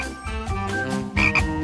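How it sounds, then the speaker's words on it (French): A frog on an airplane gives rough, close croaks in a steady run, and a louder burst of croaking comes near the end. "Une grenouille dans l'avion?"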